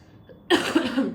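A single hoarse cough from a person with a cold bursts out after a brief quiet moment, close and fairly loud, trailing into a rough throaty rasp.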